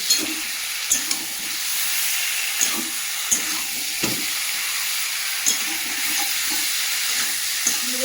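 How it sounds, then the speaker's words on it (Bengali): Fried potatoes being sautéed with meat curry in a pan, a continuous hissing sizzle under sharp periodic clacks of a spatula against the pan, roughly one scrape every second or so, close and fairly loud. "ভেজে রাখা আলুগুলো দিয়ে দেবো, দিয়ে কষাবো।"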